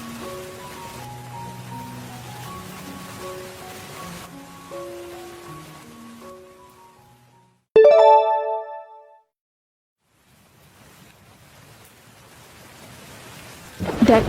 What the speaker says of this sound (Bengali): দেখ রে মা, কত ঝড় বৃষ্টি হচ্ছে।